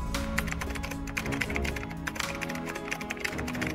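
Keys clatter on a computer keyboard in a fast, steady run of close, crisp taps as an image title and prompt are entered, with no talking.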